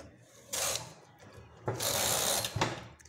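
A knitting machine carriage slides across the needle bed twice while knitting a sweater border, each pass a loud rasping mechanical rush with ratchety clicks, separated by a quieter pause.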